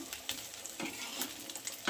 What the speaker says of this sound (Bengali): তো আমি শুটকি মাছ ভাজা করে নিচ্ছি সুন্দর করে